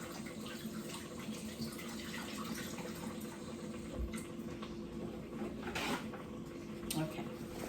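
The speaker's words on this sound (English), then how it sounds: "I got to wash my hands again." Tap water runs steadily into a kitchen sink while hands are washed beneath it, a soft, continuous splashing hiss with a few small clunks and knocks nearby.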